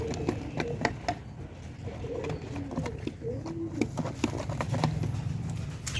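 Pigeons in a loft peck at feed, giving a steady run of sharp, irregular taps, while soft cooing carries through the background.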